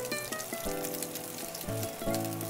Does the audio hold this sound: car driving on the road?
no